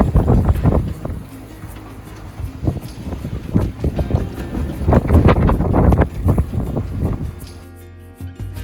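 A sailing boat rolls through waves off the southwest coast of England, with gusty wind buffeting and rhythmic splashes and surges of water against the hull, loud and close.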